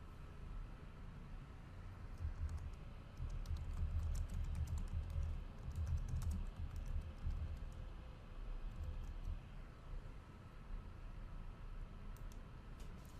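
Quiet, steady typing on a computer keyboard as a comment is entered, soft clustered key taps over a low rumbling background hum, no voices.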